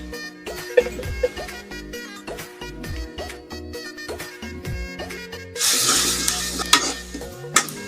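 Spices and turmeric stirred into catfish curry in a hot pan: a spoon scrapes and clatters in irregular strokes while oil sizzles beneath, swelling into a louder hiss near the end.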